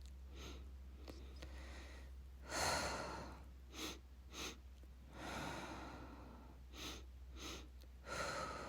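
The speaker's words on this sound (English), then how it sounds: "It's beginning breath of fire work. Breathe in twice. Exhale. Inhale twice." Breath of fire exercise: rapid, forceful sniffing inhales and sharp exhales through the nose, close and clear, in uneven clusters over a low steady hum.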